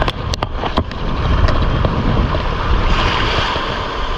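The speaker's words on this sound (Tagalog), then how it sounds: "Wala talaga malakas ang alon." Loud, continuous rush of rough ocean water and surf on a coast at Calumbuyan, Calatagan, Batangas, with heavy wind buffeting, a few knocks at the start, no voices.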